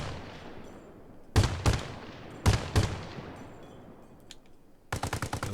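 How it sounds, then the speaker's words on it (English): LAV-25 armored vehicle machine gun firing in Arma Reforger: loud paired shots in short bursts with echoing tails, then a rapid rattling burst of fire at the end, alone without talk. "And that's the machine gun."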